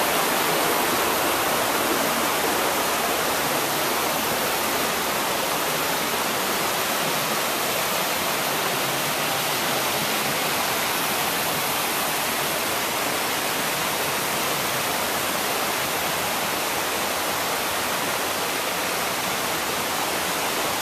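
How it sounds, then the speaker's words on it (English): A waterfall on the Multnomah to Wahkeena trail pours in a loud, continuous broadband rush that holds steady throughout, with no voices. "I see another waterfall up here."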